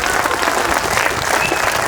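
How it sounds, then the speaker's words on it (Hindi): A full hall claps together at a poetry recitation, a brief dense burst of loud, steady applause filling the space. "तालियों की गड़गड़ाहट से मुझे आदेशित कर दो"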